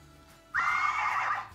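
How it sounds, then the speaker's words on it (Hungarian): A toy horse from a Magic Mixies set gives a single bright, electronic whinny lasting about a second, clear and close against a quiet background. "Hallottátok ezt? Utánhozott egy lovat!"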